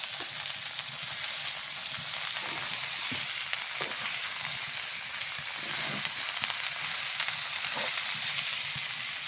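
Onions sizzle and crackle steadily in a hot pan, a dense close-up hiss with occasional louder pops and the faint scrape of stirring, no voices over it.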